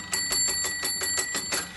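Homemade electric bell, its iron striker hammering a metal gong in a steady rapid series of about nine bright rings, close and loud with no talk.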